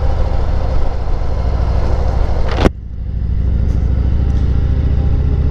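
A 2018 Harley-Davidson Heritage Softail Classic motorcycle engine rumbles steadily and loudly up close, a continuous low drone broken once midway by a sharp burst of wind or handling noise.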